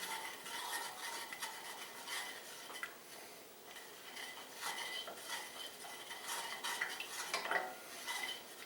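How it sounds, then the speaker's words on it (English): A spoon scrapes and clinks against a bowl while stirring Chex mix dressed with horseradish and hot sauce, soft continuous rattling strokes close by with no talk. "So let's just give this a little stir."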